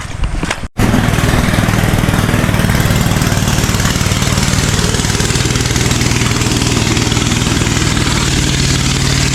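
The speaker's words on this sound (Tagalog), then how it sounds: "Naririnig ko na yung makina ni Boss Peter." After a brief cough and stall, a small engine catches and runs loudly and steadily, a close, buzzing drone that holds without letting up.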